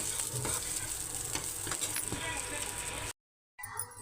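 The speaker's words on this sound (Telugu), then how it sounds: "నెయ్యి వేసుకొని 2 స్పూన్లు నెయ్యి వేసుకొని ఇలా దోరగా వేయించుకోవాలి" Semiya vermicelli fries in two spoons of ghee with a steady, dense sizzle and occasional stirring scrapes, close up under faint talk, cutting out abruptly for a moment near the end.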